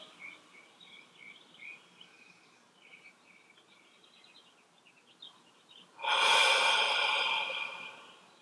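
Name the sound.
deep inhale during guided breathing meditation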